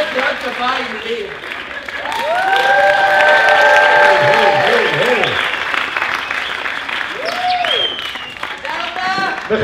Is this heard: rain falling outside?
no